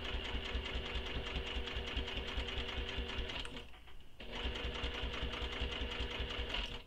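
A sewing machine sews a seam on a small crossbody bag, running steadily with a rhythmic mechanical whir, stopping briefly for about half a second, then resuming at the same even pace.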